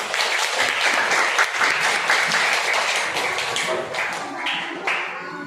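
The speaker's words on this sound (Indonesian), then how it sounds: "Beri tepuk tangan untuk kelompok As-Somad." A class of young schoolchildren applauds a student group, with loud, dense clapping and some sharper individual taps that gradually taper off near the end.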